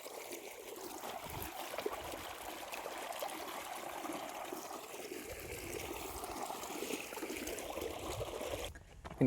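Water flows across a farm field in a Marathi village, a soft, steady trickle and gurgle heard from close by, faint and unbroken from start to end.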